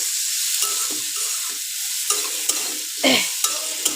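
Fish curry is stirred in a pan after ground cumin is added, giving a bright continuous sizzle with occasional spoon clicks and one louder scraping stir near the end, close by and with no speech.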